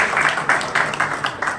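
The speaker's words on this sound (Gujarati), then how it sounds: "એક જોરદાર તાળી થઈ જાય." Applause from an audience at a stage program of a music and arts school, heard as evenly spaced, fairly loud bursts of hand claps that rise and fall in a steady rhythm.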